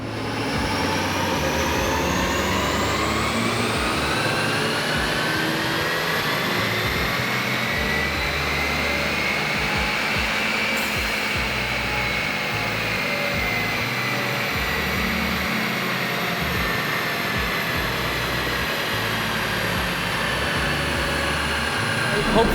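A Ford Focus ST fitted with a Garrett GTX2860 turbo runs on a dyno amid loud cooling fans, a constant heavy roar with a high, slowly rising whine that holds steady throughout.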